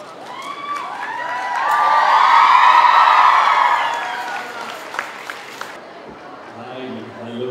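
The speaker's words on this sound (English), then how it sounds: "So big round of applause for them." Crowd applause and cheering with shouts and whoops at a college song launch event, swelling to a loud peak then fading before cutting off, leaving faint background voices.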